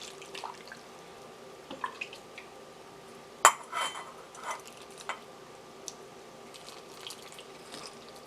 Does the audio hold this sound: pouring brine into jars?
yes